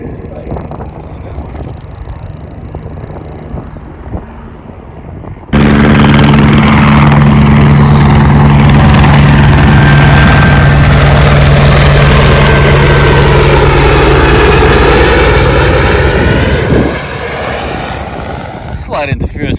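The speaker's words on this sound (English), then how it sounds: "Slight interference with that helicopter" A helicopter flies nearby at an RC model airfield, its rotor and engine noise surging in loudly after a quieter stretch of wind and handling noise, then dropping back near the end.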